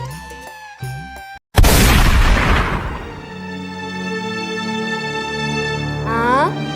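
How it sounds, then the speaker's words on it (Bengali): A single loud gunshot-like boom bursts in after a brief silence, its noisy blast decaying over musical tones with a sustained ringing tail. "গুলির আওয়াজ।"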